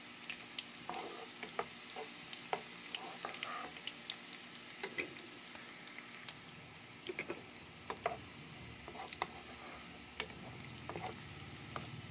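Garlic and onion cook in oil with a faint, soft sizzle, dotted with small scattered ticks and pops from the pan.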